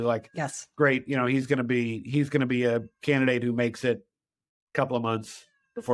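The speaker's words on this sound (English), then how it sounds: "I'm sorry about the cat in the background." A house cat meows several times in the background, short plaintive calls rising over a man's close conversational speech.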